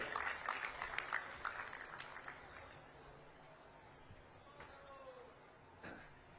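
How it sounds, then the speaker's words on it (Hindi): A crowd at a public Janjatiya Gaurav Diwas event in Jashpur, Chhattisgarh, applauds a speaker. The claps are faint and scattered and fade out after a couple of seconds, leaving quiet hall ambience. "जोरदार तालियों से अभिवादन करें"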